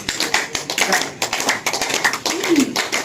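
An audience clapping hands at a yoga gathering for the Guru Purnima festival, a dense run of applause close by that mixes with a voice.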